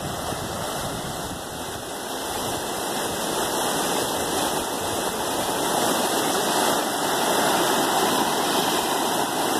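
Floodwater on Peak Creek, running about 11.7 feet high in April 2020, rushes past in a steady, loud roar. The broadband wash swells a little over ten seconds, with no voices.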